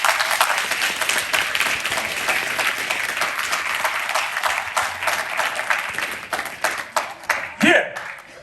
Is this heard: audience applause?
yes